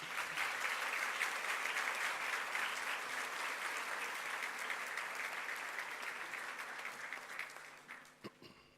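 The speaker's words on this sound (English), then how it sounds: "We can give her a round of applause, please." An audience claps steadily at a high school senior prizegiving, honoring a student's award. The applause is dense and sustained throughout, with no voices over it, tapering slightly near the end with a few last isolated claps.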